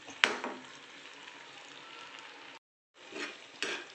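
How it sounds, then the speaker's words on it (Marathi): Almond sheera being stirred in a pan gives soft, close scraping and a gentle sizzle, with a sharp clink at the start, a short silent break, then more stirring and another knock. "हलवत राहायचं आहे ढवळत राहायचं आहे म्हणजे ते खाली चिकटणार नाही"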